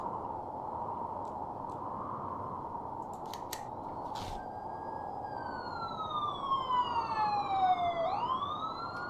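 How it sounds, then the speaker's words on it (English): Police sirens in the video game This Is The Police 2 wail continuously, a steady tone that climbs and sweeps in pitch, with a few sharp clicks partway through. "Are the sirens and the lights really necessary?"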